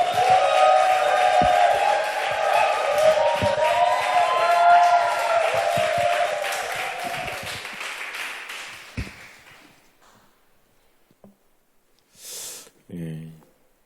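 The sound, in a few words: congregation applauding to welcome a pastor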